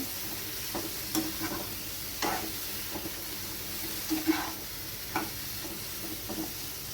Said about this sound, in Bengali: লবণটা দিয়ে আবারও মশলাটা একটু কষিয়ে নেব